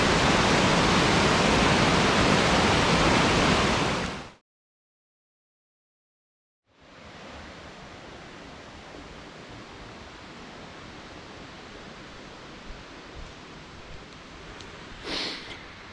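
Rockland Brook Falls in the Annapolis Valley, Nova Scotia, pours as a loud, broad, steady roar, drops out into silence briefly, then returns as a quieter, constant rushing wash of falling water.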